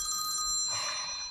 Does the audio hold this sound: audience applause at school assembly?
no